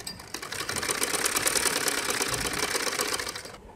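A sewing machine stitches along a cord on a baby's butterfly frock, a steady rapid close whir of needle strokes running alone for several seconds before stopping abruptly.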